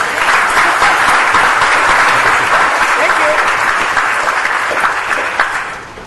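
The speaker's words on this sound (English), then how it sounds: "Let's give him an applause" An audience at a university negotiation-skills session applauds loudly and steadily for several seconds, a dense close round of clapping that tapers off at the end, with some voices mixed in.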